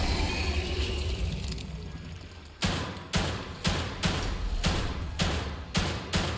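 Gunshots ring out in The Evil Within 2 after a low rumbling stretch: about eight loud, sharp reports at a steady pace, each with a short echoing tail, and no talking.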